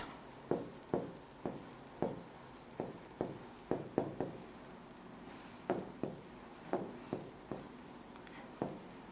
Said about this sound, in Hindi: अब दूसरा पॉइंट लिखते हैं